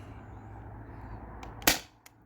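A single sharp, loud pop as a Sabre CO2 home defense launcher fires one shot over a chronograph indoors, followed by a faint click and quiet room hiss.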